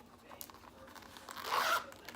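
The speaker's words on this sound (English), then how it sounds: "it has a zipper and just zips right back up." A zipper on a small item from a paper kitty subscription box is pulled shut in one short, raspy zip, quiet and close, after faint handling noises.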